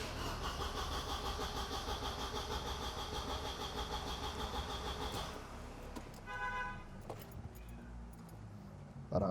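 A carbureted, recently overhauled 1987 Mercedes-Benz 190E engine runs steadily at close range for several seconds, then cuts out and briefly turns over with rapid, even starter cranking.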